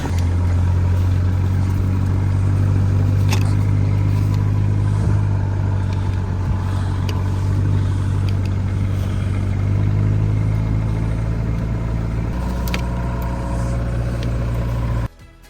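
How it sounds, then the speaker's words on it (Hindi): A car engine idles steadily after starting on a snowy day in Himachal, a loud, continuous low rumble holding for the whole stretch before cutting off abruptly at the end. "So let's see if the car starts. And there you go. Starts as normal."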